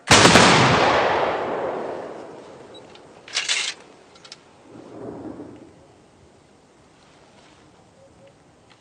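A rifle volley fires in one loud, sharp crack that rolls away in a long echoing decay, followed by a couple of fainter distant bursts.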